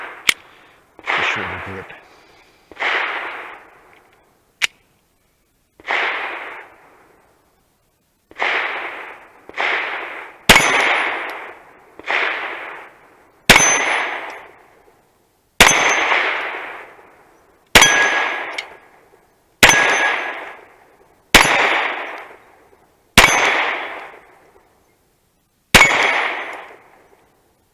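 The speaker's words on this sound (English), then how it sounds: "This is a stock Glock 26." A stock Glock 26 pistol fires about fifteen sharp, loud reports at an outdoor range, spaced one to three seconds apart with quick echo tails, plus a short spoken remark early on.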